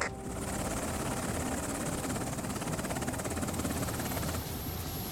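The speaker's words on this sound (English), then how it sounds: "Bringing our chopper back." Helicopter in the video game Afghanistan '11, a steady loud rotor drone with fast chopping blade pulses that holds throughout, close and continuous with no talk over it.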